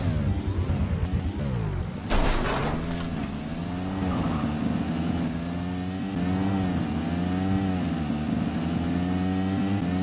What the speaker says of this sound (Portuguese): Vamos de moto pra safe.